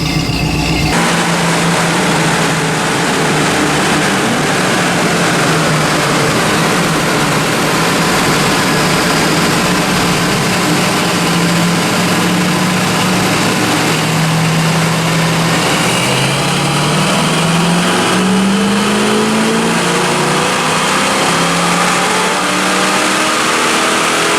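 A 1979 AMC AMX with a 304 V8 runs hard on a dyno, a loud sustained engine roar that climbs in pitch as it revs, heard alone without talk.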